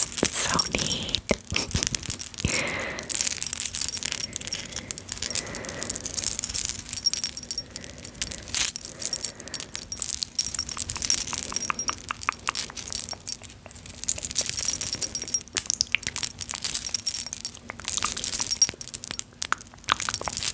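Vintage charm necklace and earrings handled up close, scattered light metallic jingles and clinks with soft crinkly rustles, quiet and intimate, spread irregularly across the whole stretch.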